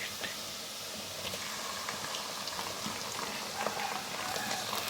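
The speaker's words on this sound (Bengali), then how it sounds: "এখন আমি এর মধ্যে যে চিকেনটা ধুয়ে রেখেছিলাম ওইটা দিয়ে দিচ্ছি" Washed chicken hitting hot oil with fried onions in a pan gives a steady, dense bubbling sizzle that holds evenly for several seconds, close and alone with no talk.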